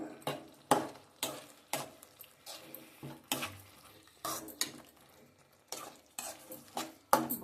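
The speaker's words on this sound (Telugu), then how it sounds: "ఇప్పుడు దీన్ని స్పూన్తో కలుపుకున్నాం ఫ్రెండ్స్." A spoon stirring thick curry in a pan, a series of distinct scraping and clinking strokes at an uneven rhythm, fairly close, over quiet background with faint bubbling.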